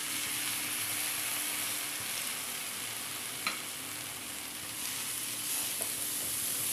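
Two finely chopped tomatoes sauté in a pan for egg curry, making a soft, even hiss of frying with a few faint clicks of a stirring spoon.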